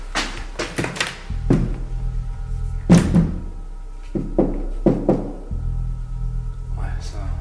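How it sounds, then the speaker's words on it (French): Knocking in the horror game Horror Motel: a few dull thumps and taps spaced across a low droning game ambience, with a voice talking between them. "Ouais, de toute façon, des tocs, c'est des tocs."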